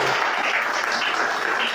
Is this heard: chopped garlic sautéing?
no